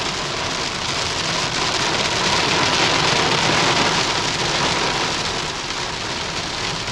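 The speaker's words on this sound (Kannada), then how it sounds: "ಹೆವಿ ಮಳೆ ಬರ್ತಿದೆ." Heavy rain pours in a loud, dense and unbroken roar on the way to Charmadi Ghat, steady from start to finish with no breaks.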